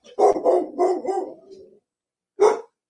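A dog barks in several quick bursts close by, a run of loud yaps tapering off, then one more sharp bark after a short pause, with no talk over it.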